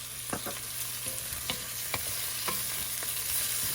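Ginger garlic paste, green chili, asafoetida and chopped onion with spices fry in a pan with a steady low sizzle and occasional light spoon taps while being stirred, close and fairly quiet.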